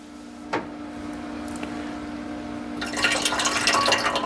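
Melted butter being poured from a container into the pan of a Vevor bread maker, a few faint drips and knocks followed by a soft, close trickling pour toward the end over a steady low hum.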